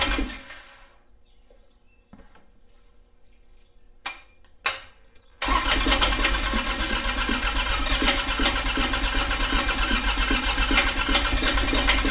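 Quiet stretch with a few knocks and brief cranking, then a fire-damaged Kubota tractor's diesel engine fires up and keeps running loud and steady, a close, rough idle.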